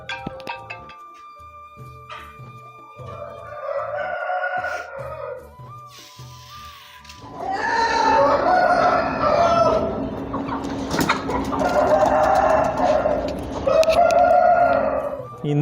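Bhimavaram fighting roosters crow repeatedly, a few distant calls at first and then several loud, overlapping crows close by, mixed with clucking.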